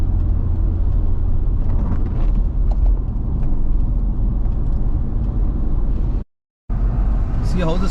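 A Mitsubishi Pajero descends a hill toward Salalah, Oman, at night. Its engine and tyres give a steady, loud road rumble that runs throughout, with a brief dropout near the end.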